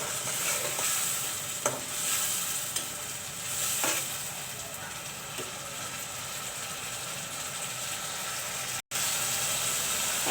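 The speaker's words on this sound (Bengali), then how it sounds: "আমি এখন মশলাগুলো ভালো করে কষিয়ে নেব।" Spices sizzle steadily as they are sautéed in a pan for a tomato pabda fish curry, with occasional spatula scrapes and clicks over a continuous frying hiss and a brief dropout near the end.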